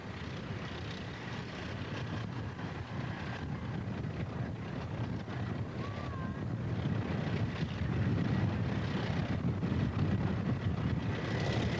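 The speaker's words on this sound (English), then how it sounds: "We're just going to be coming down and landing" Small airplane coming down to land at an air show in the USA, a steady engine drone blended with heavy wind rumble, distant and moderate, swelling slightly toward the end with no talk.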